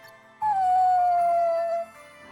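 A lost puppy in the video game Bravely Default 2 lets out a single drawn-out, slightly falling whine lasting over a second, clear and close, with no speech over it.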